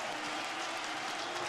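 A massive crowd cheers at the Roubaix velodrome as the 2008 Paris-Roubaix leaders enter the stadium, producing a dense, steady roar of applause and shouting that holds loud and even throughout.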